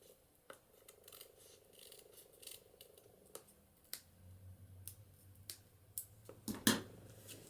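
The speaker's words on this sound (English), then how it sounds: "let's just trim this little piece off the top" Scissors trim a small piece off the top of a paper journal page made from envelopes, giving a few quiet, crisp snips and clicks close by, with a sharper cut near the end and a low hum underneath.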